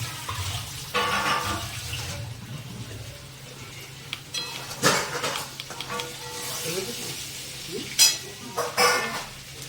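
Potatoes fry with bay leaf and onion in a pan for a katla fish curry, crackling sizzle surging in bursts as ingredients go in and are stirred, with quieter gaps between.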